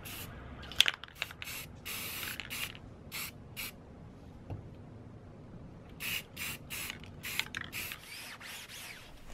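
Aerosol can spraying filler primer onto a plastic 3D-printed part, a series of short hissing bursts, close and fairly quiet, with small clicks between them.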